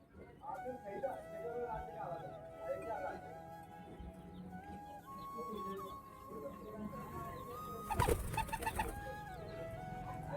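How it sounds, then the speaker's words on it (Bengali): Pigeons kept at a home coo softly in repeated low, rolling calls, fairly quiet and somewhat distant, with a brief louder flutter or clatter near the end. "আমার বাড়ির যে কটা কবুতর আছে সব বাইরেই আছে।"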